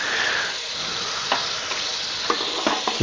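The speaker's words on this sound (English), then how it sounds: "The meat is sizzling." Meat frying in a pan gives a steady, dense sizzling hiss, close and moderately loud, with a few light crackles and utensil clicks near the end and no speech.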